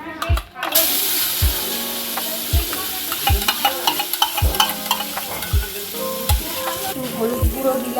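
Nigella seeds sizzle loudly in hot oil in a kadai, a steady crackling fry broken by regular scraping strokes of a spatula, close up.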